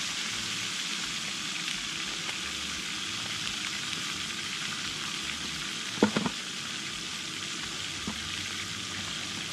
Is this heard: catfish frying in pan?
yes